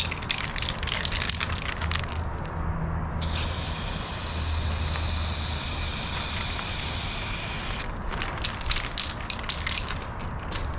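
A car is given a light first coat of ScratchesHappen touch-up paint from an aerosol can. A steady, loud hiss runs for about four and a half seconds in the middle, framed by short sputtering bursts on either side.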